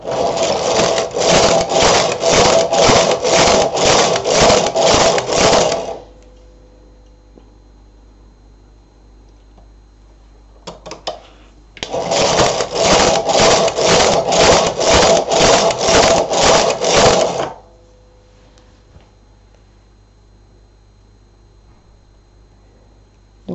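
A Silver Reed SK 280 knitting machine knits a skirt: two loud bursts of rhythmic, raspy carriage passes, each a steady rapid back-and-forth rasping, separated by a quiet pause with a few faint clicks.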